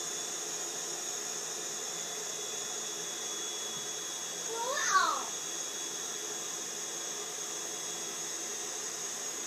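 An electric pump inflates an air mattress with a steady, close whooshing hiss and hum that runs unbroken for the whole stretch, while a child makes a brief vocal sound partway through.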